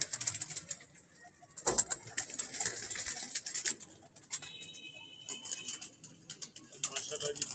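Pigeons on a rooftop loft, said to include a red variety, coo softly and intermittently amid rustling, clicks and background noise, with a faint tone near the middle.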